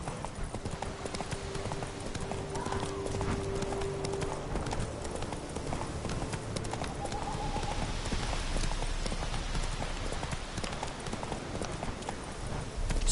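Horse hooves clip-clopping at a run in The Witcher 3 video game, a steady rhythmic drumming close by and sustained under game ambience, with a brief whinny-like tone early on.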